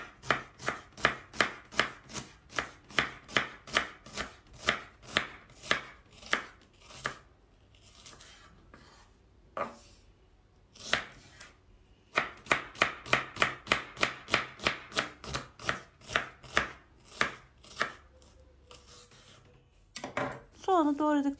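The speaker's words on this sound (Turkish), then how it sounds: "Bir kez daha kestikten sonra ince ince olacak şekilde doğruyorum" A knife chops a large halved dry onion into thin slices on a board, with rapid, steady, close and crisp strokes that pause briefly in the middle before resuming.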